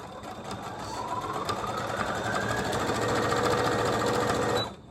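A sewing machine runs steadily and loudly while stitching a zipper, with a dense, even mechanical whir that holds for several seconds before stopping abruptly at the end.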